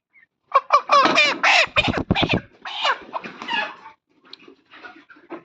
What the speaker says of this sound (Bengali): এই যে মুরগি যদি ধাপড়ানো হয় তাহলে আসলে মুরগি ভয় পায়